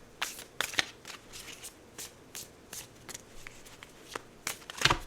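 Deck of cards being shuffled by hand, a run of crisp riffling bursts and snaps at an uneven rhythm, close and clear with no talk.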